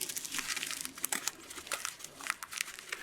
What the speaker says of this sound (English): I'm going to take a piece of tape on top like that and just tape it to the sock.